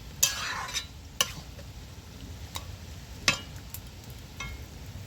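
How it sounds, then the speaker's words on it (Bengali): A taro leaf and prawn curry being stirred in a pan to cook off its liquid: a soft, low simmering hiss broken by a few sharp scrapes and clinks of the spoon, close and fairly quiet. "এইভাবে ভালো করে নেড়ে নেড়ে এর রসটা মেরে নিতে হবে"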